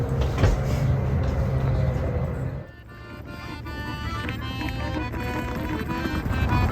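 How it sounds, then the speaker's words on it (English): Rumbling interior noise of a moving Helsinki train, with a brief clatter and a shift in tone midway, as the steady ride carries on; faint voices underneath. "Hopping on the train, very easy."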